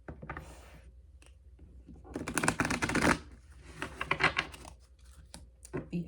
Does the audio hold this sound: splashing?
no